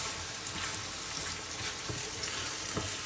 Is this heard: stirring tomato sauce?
yes